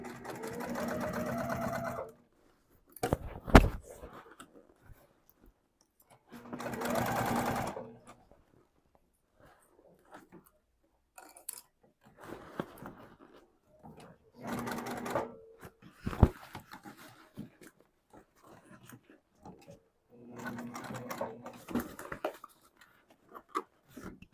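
Sewing machine stitching a cork backpack runs in several separate bursts of fast, even mechanical whirring, each a few seconds long, with quiet pauses and small clicks between them.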